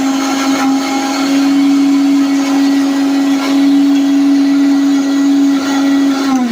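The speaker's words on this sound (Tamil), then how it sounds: "அதை வந்து ஒரு மிக்சியில் வந்து அடிக்கணும்" A kitchen mixer grinder purees thuthuvalai leaves with salt, producing a loud, steady motor whine with a constant pitch that holds for several seconds before starting to wind down at the end.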